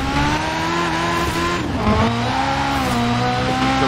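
In the racing game Forza Horizon 4, a car slides with sustained tire squeal over a steady engine drone, loud and continuous with the pitch dipping briefly mid-slide.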